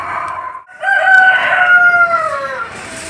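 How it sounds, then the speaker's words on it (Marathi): Close and loud, a rooster crows one long drawn-out call on a village goat farm where chickens roam freely among the goats, and softer clucking from the hens comes just before it. "संध्याकाळी कोंबड्या याच्यात बंद असतात, दिवसभर त्या या शेळ्यांसोबत मुक्त संचारमध्ये फिरत असतात"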